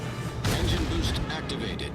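Heavy booming naval gunfire in World of Warships, from the Japanese destroyer Hatsuharu's battle, rumbles close and loud: a deep blast followed by several rapid cracking shots over a constant low roar.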